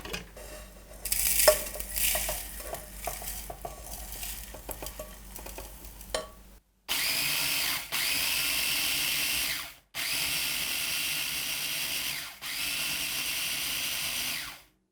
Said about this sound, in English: I'm going to blend it to make it fine.